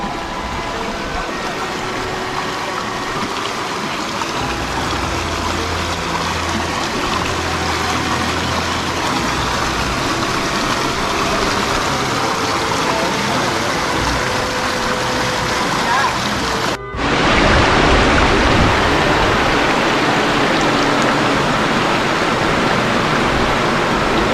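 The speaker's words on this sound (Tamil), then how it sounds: "ஆத்துல தண்ணீர் போயிட்டு இருக்கு அந்த சவுண்ட் கேக்குதான்னு பாருங்க" Steady broadband rush of river water flowing near Gorakkar cave in the Sathuragiri hills, loud and continuous, with a brief dip and a brighter, stronger surge near the end.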